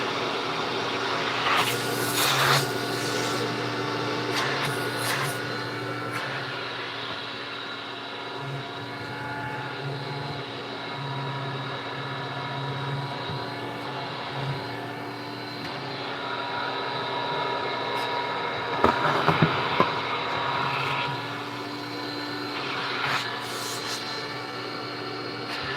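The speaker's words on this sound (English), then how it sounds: "since the last time I had that vacuum running" A vintage Electrolux vacuum cleaner motor runs continuously with a steady drone and whine, running for the first time in years and sounding out of adjustment, with a few brief clicks near the end.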